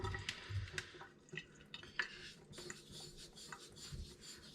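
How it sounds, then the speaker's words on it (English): A DMT 325 diamond plate rubs over a wet Japanese Aiwatani natural sharpening stone to raise slurry, making faint, wet, gritty scraping strokes with small splashy ticks, quiet and close. "Let's get some slurry going."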